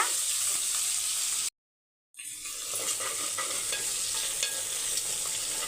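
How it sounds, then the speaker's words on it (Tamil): Onion, green chilies and curry leaves sautéing in a pan for chicken biryani, a steady close sizzle with stirring scrapes that cuts out briefly near the start and then resumes, with no talk. "ஒரே ஒரு பெரிய வெங்காயம் ரெண்டு பச்சை மிளகாய் கருவேப்பிலை அப்படியே ரெண்டு செகண்ட் வதக்கி விட்டுருங்க"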